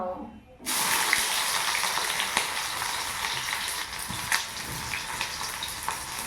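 Onions dropped into hot oil in a home kitchen burst into a loud, steady sizzle that starts abruptly and keeps crackling close by, with occasional stirring scrapes.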